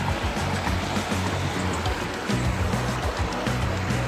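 A river in the Jamaican countryside flows steadily and close by, a continuous broadband rush of moving water with a low churning rumble and no voices.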